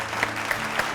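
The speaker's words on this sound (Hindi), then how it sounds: "जोरदार तालियों के साथ अभिनंदन कीजिएगा" Steady, dense applause from a studio audience welcoming a guest onto a show, continuous and fairly close throughout.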